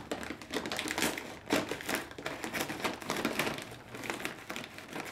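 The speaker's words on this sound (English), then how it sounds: "I will cut open the top" A blade cuts open the top of a cardboard box of packaged popcorn, producing continuous close scraping, tearing and crinkling with brief louder bursts throughout.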